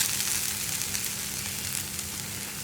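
Sliced onions sizzle steadily in hot oil in a pan for a vegetable curry, a continuous crackling hiss with no voices.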